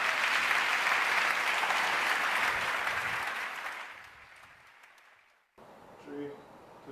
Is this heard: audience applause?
yes